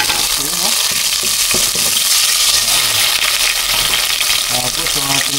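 Ginger, tomato and onion sauté in a hot pan with a loud, steady sizzle, joined by scraping stir strokes throughout, while a voice murmurs faintly underneath.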